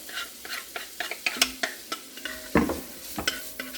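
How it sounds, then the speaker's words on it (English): Onions frying in bacon grease in a pan over medium heat, a soft sizzle punctuated by repeated scraping and stirring clicks at an uneven rhythm, close by and fairly quiet, with no talk. "I've got my pan on medium heat with a little bit of bacon grease in there. I'm just going to put my onions in."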